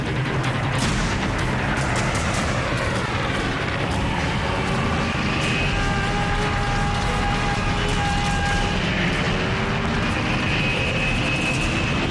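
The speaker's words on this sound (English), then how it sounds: "Seki's plane smashes into the escort aircraft carrier USS St. Lo." A diving World War II kamikaze plane bears down on the escort carrier USS St. Lo, its engine a loud, continuous roar with a rising and falling whine amid rumbling booms.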